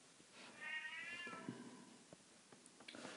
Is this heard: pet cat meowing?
yes